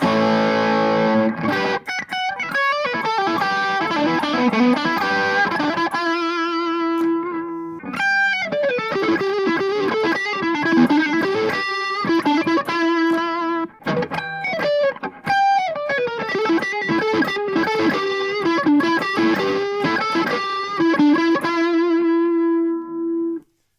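An electric guitar played through an MXR Classic Distortion pedal with the tone set full gives loud, crunchy chords and riffs with sustained, ringing notes in repeated phrases.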